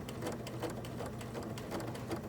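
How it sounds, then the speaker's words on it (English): A sewing machine stitching steadily with a rhythmic, slightly clunking mechanical beat as the bobbin thread runs low, heard close and alone. "It'll start to make that kind of clunking noise when you start running low on bobbin thread."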